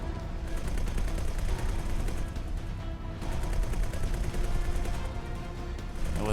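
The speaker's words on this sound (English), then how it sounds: "Come on, turrets, finish the job" Turrets in the space game X4 pound a defense platform with dense, continuous rapid-fire bursts, loud and sustained throughout with no talk over it.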